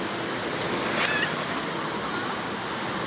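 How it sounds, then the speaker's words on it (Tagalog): Artificial waves churn in the wave pool at 9 Waves Resort, a steady broadband rush of moving water at moderate level, with a faint brief voice in the background. "Kaya pala ito tinawag na 9 waves kasi talagang may wave siya"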